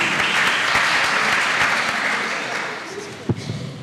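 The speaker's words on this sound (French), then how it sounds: "Sous vos applaudissements" An audience at a faculty event claps in sustained, dense applause that gradually thins toward the end, with one sharp knock near the close and no talking.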